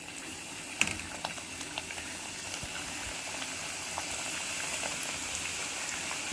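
Puri dough frying in hot oil, giving a steady close-up sizzle with scattered sharp pops and crackles throughout.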